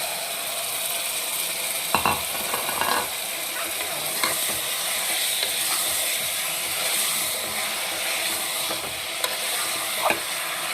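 Mutton is tossed into tomatoes frying in a pan for gongura mutton and stirred, giving a loud continuous sizzle with repeated scraping and clinking from the spoon, close by and steady throughout, with no talking.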